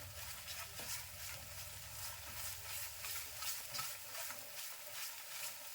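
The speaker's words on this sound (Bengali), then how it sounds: "অবিরত নাড়াচাড়া করে রাখতে হবে ছেড়ে দিলে পুড়ে যাবে তলাটা লেগে যাবে" A kala jamun mixture is stirred without pause in a pan, giving soft, faint scraping and sizzling with a steady rhythm and no voices.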